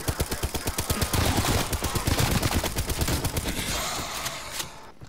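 Rapid automatic fire from an LMG machine gun in Call of Duty Cold War Zombies, a loud sustained burst of closely spaced shots that tapers off near the end.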